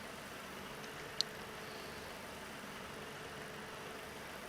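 A tractor engine in the farming game Farm Expert 2017 idles with a low, steady drone throughout, faint and even, with one small click partway through.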